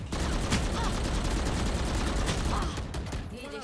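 Rapid Valorant gunfire, dense and loud, runs through the whole stretch with a few sharper bursts standing out, while players talk over it.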